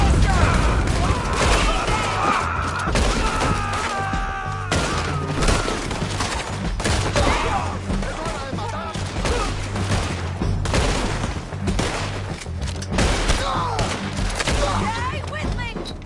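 Dense Red Dead Redemption 2 gunfire rattles almost nonstop, rapid overlapping shots and bursts with heavy booms, while voices shout over the shooting throughout.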